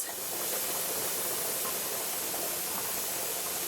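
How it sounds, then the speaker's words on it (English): Steam vents steadily from a pressure canner used for hot pack chicken, a loud continuous broadband hiss with no breaks. "so our steam is still coming up"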